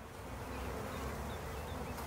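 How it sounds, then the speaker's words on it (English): Honey bees buzz steadily in a dense, continuous hum inside a hive, fairly quiet and close, with no voices. "you can see inside, there's just lots and lots of bees"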